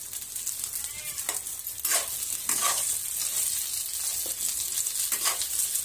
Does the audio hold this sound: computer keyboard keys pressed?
no